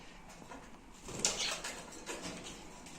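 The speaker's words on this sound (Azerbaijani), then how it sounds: "Quşlarımızı da göstərim ki, mühtanlarım mənim." Pet pigeons or doves cooing indoors, a soft, muffled burst of calls in the middle over a quiet background, with faint clattering and no talk.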